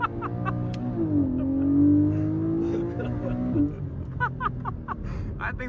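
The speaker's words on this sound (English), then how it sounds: "It's launch control time." Porsche Cayman GTS 4.0 PDK with 400 hp on a launch-control start in Sport Plus, its engine note sweeping steadily upward through the gears, loud and close, with a person talking over parts of it.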